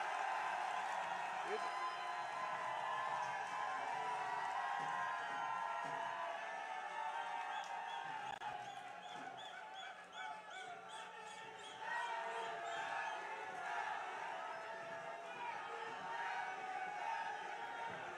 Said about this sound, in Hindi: जोरदार तालियां बजा करके चंद्रशेखर जी का स्वागत करें